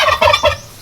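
A turkey raised from an incubator gives a quick burst of gobbling, three rapid warbling pulses close to the microphone, loud and alone without any talk.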